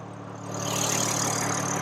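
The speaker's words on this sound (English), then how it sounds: "S58 inline-six 3-liter twin-turbo engine, 503 horsepower, 479 torques" A 2024 BMW M4 Competition's S58 3-liter inline-six twin-turbo engine idles under the hood, a steady low hum that swells slightly and holds even, close and alone.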